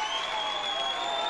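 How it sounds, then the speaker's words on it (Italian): Dense audience applause fills a brief stretch at a school choir contest final, a steady wash of clapping from a crowd with no pauses. "Grandissimi questi applausi"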